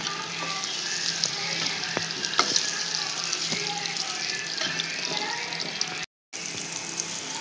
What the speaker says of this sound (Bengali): আমি এখন ভালো করে একটু আলুগুলো ভেজে নেব।